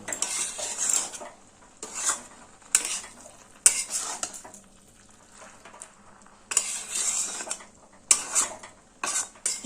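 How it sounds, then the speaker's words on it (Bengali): A ladle scrapes and clanks against the pan in rhythmic bursts as roasted spice mix is worked into cabbage, with a light sizzle underneath and short quiet pauses between strokes. "এবার মশলাটা কপির সঙ্গে খুব ভালোভাবে মিশিয়ে দেবো"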